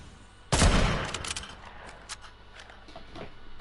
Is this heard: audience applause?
no